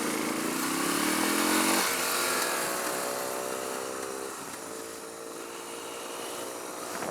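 A Suzuki DR650 motorcycle with a stock carburetor revs hard at a drag race start, its loud engine whine climbing in pitch, dropping briefly as it shifts, then climbing again for several seconds.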